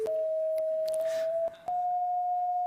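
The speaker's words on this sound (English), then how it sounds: "For example, this is the sound of grass." An electronic tone from a colour sensor that renders the green of grass as sound: a sustained pure pitch that steps slightly higher after a short dip, with faint background clicks.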